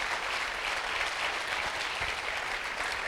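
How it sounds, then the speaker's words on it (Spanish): A church congregation applauds in a steady, dense wash of clapping that runs without a break, fairly distant and even in level. "Dale un aplauso al Señor."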